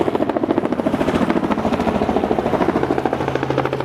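A helicopter's rotor thumps in a fast, steady pulse, loud and close, with a deep engine drone running underneath throughout, at a seaside helicopter-ride spot in Australia.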